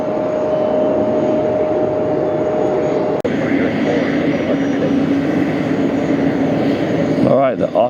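An Etihad jet airliner takes off at JFK airport in New York, a loud sustained engine roar that swells and rumbles steadily throughout, heard from nearby with a spotter talking over it.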